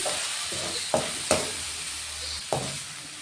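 Cinnamon, fennel and cloves sauté in a pan for spicy tomato kuzhambu. A low sizzle runs throughout, broken by a few sharp scraping knocks of the stirring spoon, close, with no talking.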